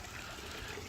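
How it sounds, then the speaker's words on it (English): Water flowing steadily from a hose into a koi pond under construction, a continuous rushing, gurgling wash at low volume with no pauses. "Water coming out from this hose here"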